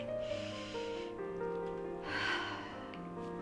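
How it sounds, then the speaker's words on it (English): A deep breath taken during an EFT tapping session to calm down: a slow, audible inhale, a pause, then a fuller exhale, both close and soft over a quiet sustained musical tone. "I'm going to take a breath"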